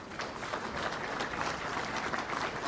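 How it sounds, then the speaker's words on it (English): An investment forum audience gives a round of applause for an envoy, a dense, steady wash of many hands clapping at even loudness throughout. "Let's give him a further round of applause"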